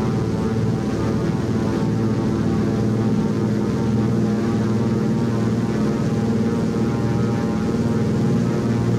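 A DHC-2 Beaver propeller engine in X-Plane 11 runs at takeoff throttle, giving a loud, steady, unbroken droning roar with a rich harmonic buzz throughout and no talking.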